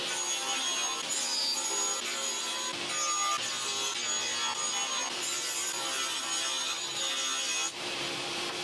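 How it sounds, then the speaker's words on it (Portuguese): A table saw cuts wooden pieces for a miniature toy kitchen with a loud, steady, rasping whine that runs unbroken and close-up, dipping only briefly near the end, with no voices. "pode ligar sua serra de bancada e cortar todas as peças restantes"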